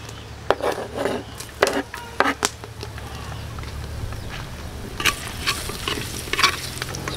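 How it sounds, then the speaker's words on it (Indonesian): Garlic sautéing in a pan, a low steady sizzle broken by brisk scraping strokes of a stirring spoon that come in short bursts. "Mga kapulutan, magigisa muna tayo sa bawang."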